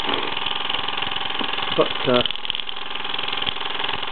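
A Mamod SC2 steam engine runs with a fast, steady mechanical chuffing and rattle at moderate volume, someone speaking over it throughout.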